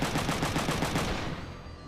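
Video-game machine-gun fire from the double shot skill in Front Mission 3, a close, loud rattling burst of rapid regular shots lasting about a second before trailing off.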